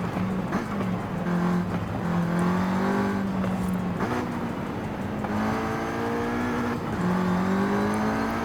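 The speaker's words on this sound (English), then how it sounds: "That transmission whine is crazy loud." Volkswagen Golf R 7.5 in the racing game Forza Horizon 5, its engine droning steadily with a loud, rising transmission whine across several gear changes, continuous and close with no talk.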